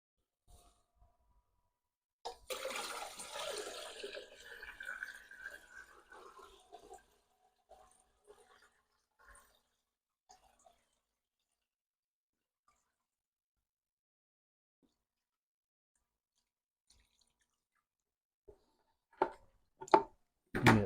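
Natural sea water is poured into a nano reef aquarium, a gushing splash that lasts about five seconds and then fades. Faint knocks and handling noises follow in a quiet room.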